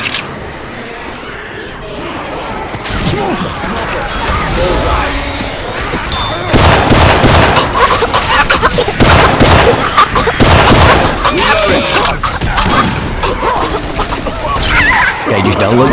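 Syphon Filter weapon sounds replace the usual guns in Left 4 Dead 2, giving dense, loud, sustained gunfire that grows heavier partway through, with voices talking over it.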